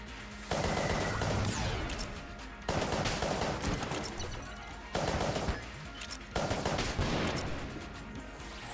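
Railgun fire in the video game Enter the Gungeon, four heavy blasts at roughly two-second intervals, each a sharp loud crack that decays into a rumbling tail.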